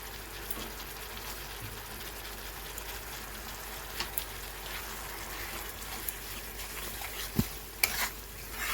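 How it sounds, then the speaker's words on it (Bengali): Spice paste of onion, ginger and garlic sizzles steadily in a pan for a Bengali tilapia curry, with frequent stirring scrapes and a few sharper clatters near the end; no voices. "পেঁয়াজ আদা রসুনের সাথে ভালো করে কষিয়ে নেব।"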